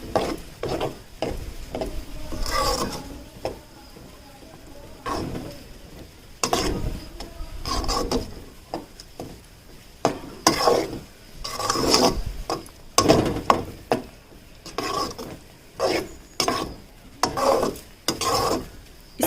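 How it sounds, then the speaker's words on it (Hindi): Semolina and yogurt batter is stirred in a pan in repeated scraping strokes, a series of close, uneven rubbing and scraping bursts with short pauses between them and no talk. "तो यहाँ पे ये हमने सूजी डाल लेने के बाद इसे हम अच्छी तरह से मिलाएंगे"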